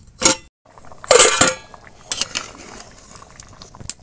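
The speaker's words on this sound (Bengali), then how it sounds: "এবার আমি ঢাকা দিয়ে দেব।" A lid set on a cooking pot of chicken khichuri with chillies and tomato, giving a few sharp metallic clatters and clinks up close, then a quiet simmer.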